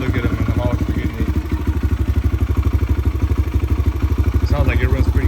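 Engine of a Kawasaki KLX 140 dirt bike running steadily at idle, a loud, close, rapid pulsing putter with some mechanical clatter, while someone talks over it.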